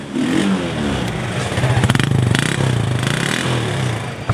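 A small clutchless United Power Scooty70 scooter engine, half self-start, sputters into life and revs, its rising, pulsing drone joined by clattering as it pulls away.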